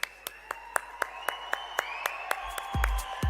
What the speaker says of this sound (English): More of a wow, whistles, claps, applause.